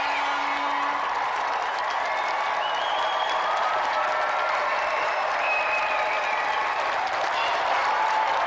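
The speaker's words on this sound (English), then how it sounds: "let's have a round of applause for our gallant challenger, Doug Jones" A studio audience on a video game show applauds a challenger, steady sustained clapping with a faint whoop in the mix and no clear talk over it.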